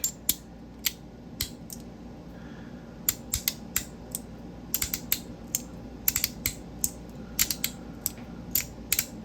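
Magnetic fidget toy handled in the hand, giving a string of small sharp clicks and snaps in irregular clusters over a faint background hum, close up and quiet, with no talking.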